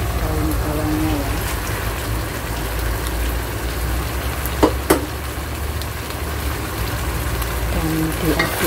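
Fish and spring onions fry in a pan with a steady, dense sizzle throughout, broken by a couple of sharp clicks of a stirring utensil near the middle; close and continuous, with no talking.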